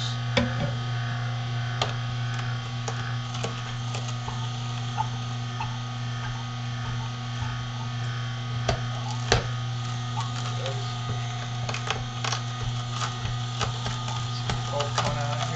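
An Omega 8003 juicer grinding beet pieces, a low steady motor hum with irregular clicks and ticks of the auger crushing the beets, fairly quiet and close, with no talking.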